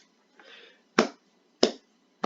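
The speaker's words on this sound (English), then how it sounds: "Give him the slow clap." Three sharp, isolated hand claps spaced roughly half a second apart in a slow, deliberate rhythm, close and loud, preceded by a soft rustle, with no talking.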